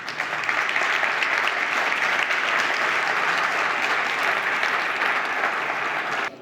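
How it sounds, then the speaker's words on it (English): A conference audience applauds a panel, loud dense clapping from a large crowd sustained evenly for several seconds before stopping abruptly. "really a warm applause for our panel"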